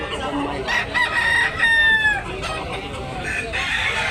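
Roosters for sale at a poultry market in Tabunok, Talisay, Cebu crow loudly and close by, one long rising-and-falling crow standing out over scattered clucks and a faint murmur of crowd noise.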